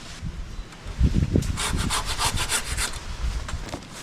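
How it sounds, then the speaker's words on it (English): A pole pruning saw cuts through a tree branch during professional pruning, giving a run of steady rasping push-pull strokes, up close and alone with no talk. "Section I'm just gonna trim out with the pulley saw."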